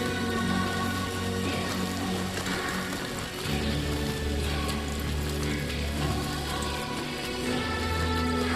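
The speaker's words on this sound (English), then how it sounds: "Look at the rain quality" Steady rain falls in Death Stranding 2 on the Beach, a constant dense hiss of drops with a low rumbling bed beneath, continuous and fairly even throughout.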